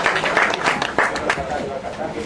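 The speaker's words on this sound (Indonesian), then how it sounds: "Tepuk tangan untuk Jazzer kita" An audience claps for a jazz performer at a Kenduri Cinta gathering, with scattered hand claps spreading through the room while someone talks over them close to the microphone.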